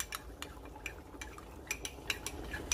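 A utensil stirs a cornstarch and water slurry in a bowl, giving a run of quick, light clinks and scrapes in an uneven rhythm, close and fairly quiet.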